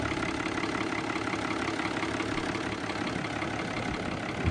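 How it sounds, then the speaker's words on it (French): Steady, even drone of twin diesel engines idling on an aluminium flybridge catamaran, a constant low rumble with a broad hiss on top, heard from nearby with no talking. "On constate que le bruit du moteur est assez raisonnable"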